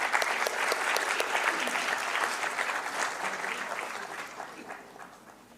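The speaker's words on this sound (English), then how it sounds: "May we have a big round of applause." An auditorium audience applauds steadily to welcome a session's chair and speakers onto the stage at a formal daytime event, dense sustained clapping that slowly tapers over several seconds.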